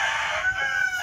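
A fighting rooster crows once, loud and near, a bright drawn-out call held for about a second.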